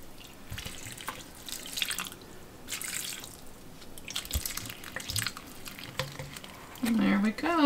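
Water drains through the soil of a large potted house plant with faint, scattered drips and trickles, while a voice talks over them.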